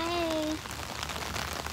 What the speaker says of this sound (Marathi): पाऊस आलेला आहे, पाऊस येतोय मधूनच